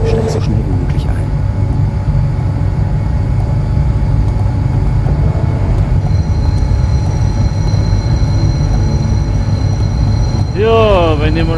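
A train pulls into a station in the video game Hidden Target with a sustained low rumble and metallic brake squeals, while a voice speaks over it and a bird-like chirping rises near the end.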